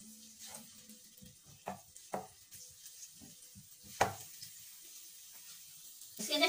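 Ginger garlic paste fries in oil on a flat tava, a quiet soft sizzle broken by a few sharp scrapes and clicks of stirring.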